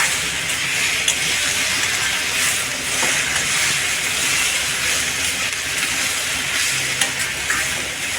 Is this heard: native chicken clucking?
no